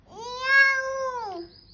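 A voice imitates a cat, giving one clear drawn-out meow that rises, holds and falls off, close and fairly loud.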